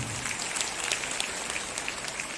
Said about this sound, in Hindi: जोरदार तालियों से उपायुक्त महोदय का भी अभिनंदन